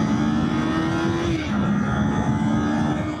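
A small motorcycle engine hums while being ridden, a continuous close drone whose pitch dips briefly as the gear changes, with wind noise underneath.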